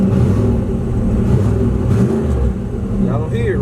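Turbocharged LS engine in a Camaro with a weak transmission, idling in drive: a steady low rumble throughout, with a person talking over it.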